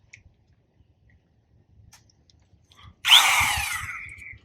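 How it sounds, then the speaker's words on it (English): A hammer drill bores into the brick wall of a house, starting abruptly after near silence with a loud, rough, continuous grinding whir that holds steady and close to the end. "I want to make sure this is on hammer mode"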